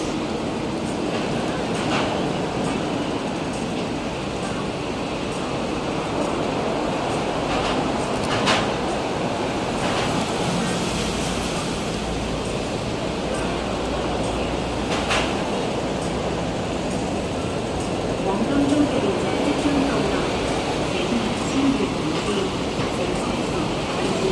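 A train pulls into a station with a steady low rumble and rail noise, occasional clicks and clacks over the track, and faint hissing or squeals, heard close on the platform.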